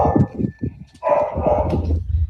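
Inside a home, a dog barks and whimpers in agitated, repeated bursts, the loudest yelps coming close together in the second half.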